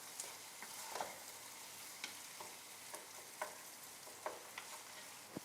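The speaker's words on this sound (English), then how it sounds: "I'm going to stir that up." Rice being stirred in a pan while making stuffed peppers, a faint sizzle under a series of light spoon scrapes and taps spaced about a second apart.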